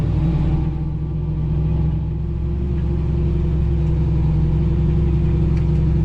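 Fendt 1050 tractor engine running steadily during cornstalk tillage, a loud, continuous low-pitched rumble and drone heard from the cab with no talking.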